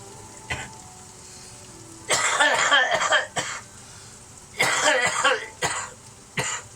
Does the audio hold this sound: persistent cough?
yes